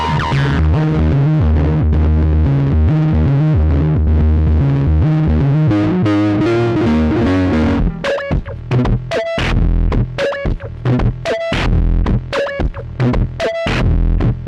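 Synthesizer run through a guitar effects pedal, producing a twisted, heavily distorted and modulated tone: a dense droning chord for several seconds, then a choppy rhythmic pulsing pattern, loud and continuous with no voices.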